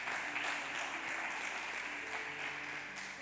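A church congregation claps together during a Sunday service, a dense, steady wash of applause that lasts the whole moment with no break.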